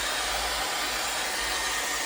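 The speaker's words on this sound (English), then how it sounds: "with the blow dryer just covering over my head" Hair dryer blowing steadily close by while drying curly hair with the head flipped forward, a continuous airy roar with no pauses and no voices.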